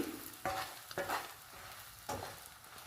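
Egg pieces sizzle and bubble in hot oil in a pan, with a few short bursts of stirring and scraping between steadier frying, all faint and close, with no voices.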